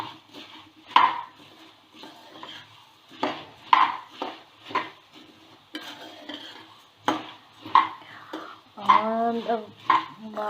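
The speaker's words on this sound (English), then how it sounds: "Now adding mamra, kurmura. Mix it well." Puffed rice for a sev mamra snack is stirred and tossed in a metal pan, repeated bursts of rustling crackle and scraping with sharp spoon clinks against the pan, spaced every second or so.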